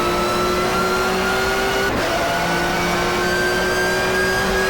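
A 1994 touring race car engine in the GTR2 video game at Donington drones loud and steady, a sustained rising whine near the listener with a brief dip mid-way as the gear shifts, no voices.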